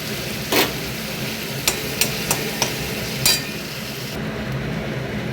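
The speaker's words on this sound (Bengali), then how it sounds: "এই যে রাখা চিংড়ি মাছগুলোও দিয়ে দিলাম" Prawns stirred into frying spices in a pan: a continuous sizzling hiss with several sharp utensil knocks and scrapes against the pan, close and clear, no talk.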